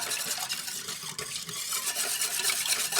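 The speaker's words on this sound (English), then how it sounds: "here's 2 packets of the Goya Sazon by Goya. This stuff's awesome. I'm just going to whisk this" A whisk beating Goya Sazon seasoning into a citrus marinade for chicken tacos, a quick, continuous scraping and clinking against the bowl with a slight wet swish, close and steady throughout.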